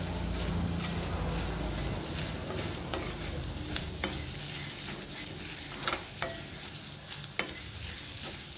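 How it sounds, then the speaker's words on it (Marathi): Kitchen King and goda masala spices fry in oil in a pan for a potato and pea curry, giving a steady close sizzle with scattered spoon clicks and stirring scrapes throughout. "हे मसाले असे परतून घ्यायचेत आपल्याला तेलामध्ये"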